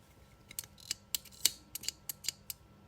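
Several crisp, close snips of dull scissors cutting crochet yarn in an uneven series, sharp metallic clicks against a quiet background.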